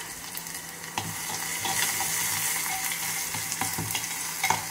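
Crushed garlic dropped into hot tempering oil with dried red chillies, a steady crackling sizzle punctuated by sharp clinks and scrapes of a spoon against the pan.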